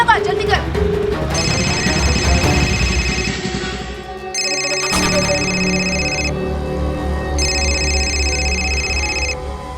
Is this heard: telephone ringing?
yes